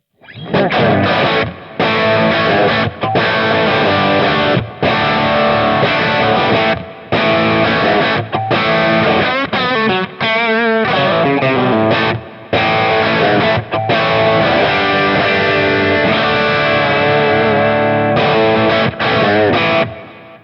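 Heavily distorted electric guitar playing chugging chords and riffs with short pauses between phrases, loud and full-bodied, with a polished, shaped tone.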